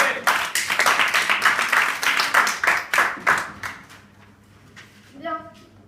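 Rhythmic, loud clapping from an audience at a French student debate practice session, with distinct hand claps that fade out after about four seconds, followed by brief voices.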